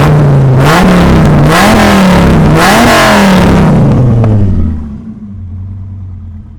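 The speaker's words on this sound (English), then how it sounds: "Let's give it a few revs." A 2005 Dodge Viper Commemorative Edition engine revs loudly up close, with several rising and falling throttle blips, then drops back to a lower, steady idle rumble.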